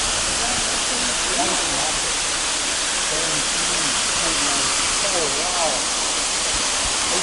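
Kitekite Waterfall in New Zealand pours down in a steady, broadband rush of falling water that fills the whole clip, with faint voices talking underneath.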